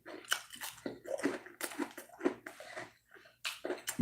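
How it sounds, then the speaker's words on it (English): Crispy fries bitten and chewed right at the microphone, a run of loud crunchy bites and wet chewing in uneven bursts with short pauses, no talking over it. "I hope it's picking up that crunch."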